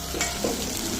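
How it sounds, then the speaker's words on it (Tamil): Onions fried and stirred in a pan for chicken thokku, a steady close sizzle with spatula scraping and stirring strokes throughout the short stretch, no voices. "நல்லா வெங்காயத்தை நல்லா வதக்கிக்கோங்க."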